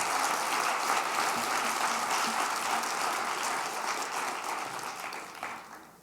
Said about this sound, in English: Let's give a big round of applause to Jay